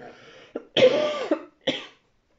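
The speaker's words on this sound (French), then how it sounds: "je vais éternuer, je vais tousser" A person coughs several times up close: a short burst, a longer rasping cough, then another brief one.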